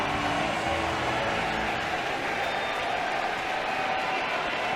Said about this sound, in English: and the crowd is buzzing.